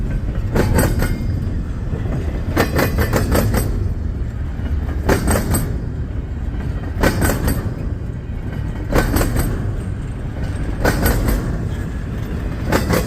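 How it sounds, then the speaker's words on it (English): A train rolls steadily past close by, its wheels clacking over rail joints in regular rhythmic bursts beneath a constant heavy rumble. "down that way there's going to be coming a eastbound train."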